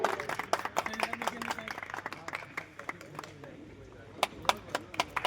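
An audience at a road safety event in an electric bus depot claps in scattered, uneven bursts, sharp individual claps rising over a murmuring crowd and voices.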